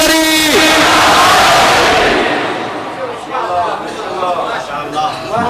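A crowd at a Shia majlis mourning gathering roars religious slogans and salawat in unison. It starts loud and sustained, then breaks into overlapping shouted responses as the chanting fades.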